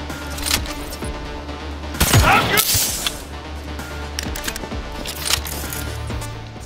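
Gunfire in Cyberpunk 2077, a few loud sharp shots and a booming burst midway over a steady game backdrop, with talk heard faintly underneath.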